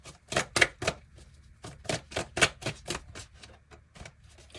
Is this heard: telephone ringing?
no